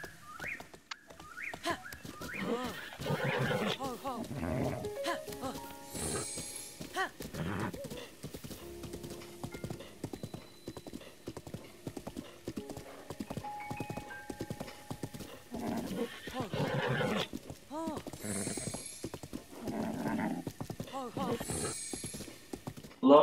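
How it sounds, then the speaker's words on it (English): A horse's hooves clip-clop steadily in Zelda Breath of the Wild, with occasional whinnies and neighs, some birdlike chirps and game sounds, while a person talks over parts of it. "Let's see where this horse takes me."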